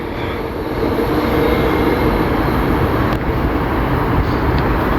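A Class 390 electric train speeds through Milton Keynes Central station on the West Coast Main Line, a loud, steady broadband roar and rush of wheels and air, close and unbroken throughout.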